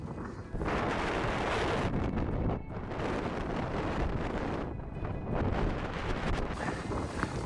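Wind gusts buffet the microphone outdoors in the Norwegian Arctic in winter, a loud, continuous roar with brief lulls between surges.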